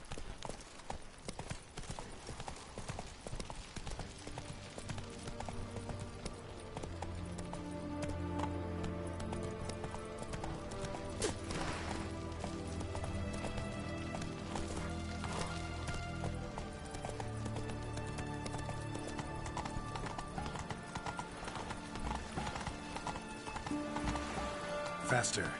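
Roach, the horse in The Witcher 3, gallops with a fast, steady clip-clop of hooves, rhythmic and mid-distance, running beneath game music and a quiet voice.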